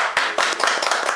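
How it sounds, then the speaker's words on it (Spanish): An audience claps together in a brisk burst of applause at a televised special program, the dense patter of many hands filling the short moment without speech. "un aplauso también"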